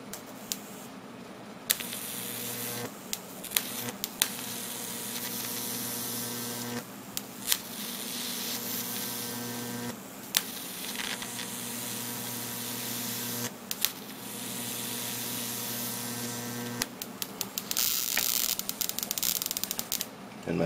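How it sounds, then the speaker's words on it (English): A ZVS flyback transformer driven at about 48 volts with IRFP460 switches, arcing at its pins: a steady electrical buzz with tonal hum, broken by sharp crackling bursts and brief pauses, close and fairly loud throughout. "And my Flyback's pins are arcing."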